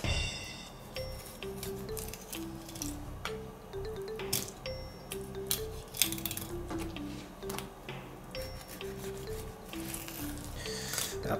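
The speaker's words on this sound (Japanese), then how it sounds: "じゃあ3枚におろしていきます。" A knife works through a flounder on a cutting board, with wet squishy slicing and small clicking taps of the blade against board and bone, close and fairly loud, repeating irregularly without speech.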